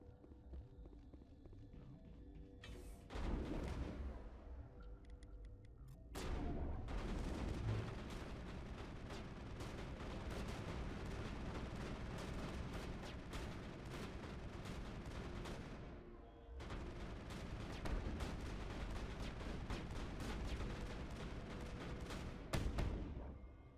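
Rapid bursts of gunfire from the Mass Effect video game, played as an Engineer, crackle nearly continuously across the scene with short pauses between volleys, dense and loud over a rumbling game background.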